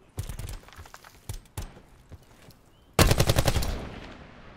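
Automatic gunfire in the Call of Duty Black Ops 4 Blackout battle royale: scattered bursts early on, then a loud sustained volley of rapid shots near the end, with no talk over it.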